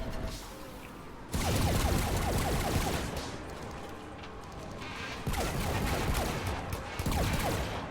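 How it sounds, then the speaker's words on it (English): Rapid bullet-like gunfire in Mass Effect 3, two long sustained bursts of loud automatic fire separated by a quieter gap. "How is that firing off bullets? That's a beam weapon."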